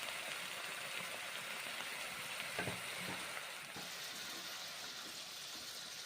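Tomatoes sizzle and fry steadily in a pan of radish and yardlong bean curry with turmeric and water, a constant even hiss with a couple of faint stirring clinks partway through.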